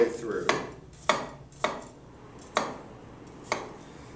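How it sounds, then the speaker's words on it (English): A knife chops through an onion on a cutting board, five crisp knocks spaced roughly half a second to a second apart, close and clear over a quiet kitchen background. "Making a horizontal and then cutting the rest"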